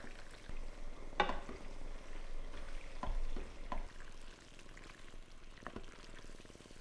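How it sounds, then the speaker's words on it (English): Bacon lardons and pasta cooking in a pan give a soft, steady sizzle, with a few utensil stirs and scrapes heard close and fairly quiet. "add the cooked bacon lardons back to the pan and cook for a further 1 to 2 minutes until the bacon's hot"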